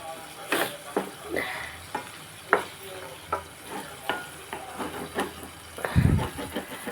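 Raw mango curry is stirred in a pot as it finishes cooking and begins catching on the bottom: a spoon scrapes and clinks in repeated strokes over a soft, steady sizzle.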